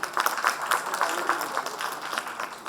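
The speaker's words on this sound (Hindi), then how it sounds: "ये तो इसलिए ताली बजी चाहिए पीछे से खास तौर से" An audience at a medical education conference breaks into applause, a brief burst of scattered, moderately loud clapping that tapers off.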